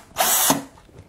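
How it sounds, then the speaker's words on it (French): A power drill bores a hole into a wooden shelf box in one short, loud whirring burst that rises and then cuts off, with no talking. "donc là j'ai réalisé les trous, c'est-à-dire j'ai percé les 2 caissons"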